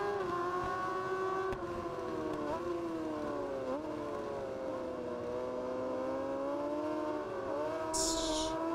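An MV Agusta motorcycle engine in the racing game Ride 4, during an MV Agusta world trophy race, revs steadily and loudly. Its pitch climbs and dips through repeated throttle changes and gear shifts, with a brief higher whine near the end.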